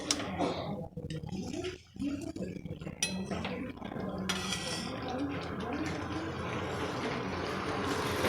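A lid clanks onto a pan and an egg omelette with fried carrot, onion and chilli is flipped, making scattered metallic clinks and scrapes under someone talking.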